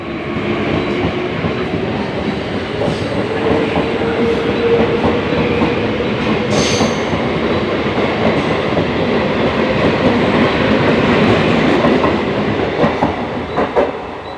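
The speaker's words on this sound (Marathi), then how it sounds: "आता ट्रेन चाललेली तुम्ही इथे बघू शकतात" A crowded passenger train near Vaitarna station rumbles steadily throughout, with continuous wheel-on-rail noise, faint clatter and occasional brief squeals, loud and close, with no talking.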